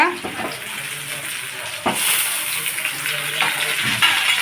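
Curry leaves and tomato sautéing for goat head curry, a continuous hissing sizzle close by with a few sharp stirring knocks against the pan.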